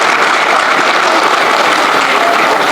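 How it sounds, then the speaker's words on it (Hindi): Dense, steady applause from an audience at the inaugural session of a literature festival in Delhi, loud and unbroken across the whole stretch with no voices over it. "आपकी तालियां हमारे पुरस्कारों से कम क्यों हो रही हैं?"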